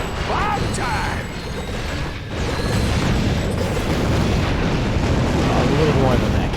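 Bomb blasts in the video game Ratchet: Deadlocked form a loud, continuous booming rumble mixed with mechanical clatter, with brief vocal traces early on.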